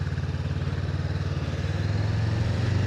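Honda Rebel 500 motorcycle pulling away from a stop, its steady mid-pitched engine rumble building slightly in loudness and pitch near the end, close by with no talk.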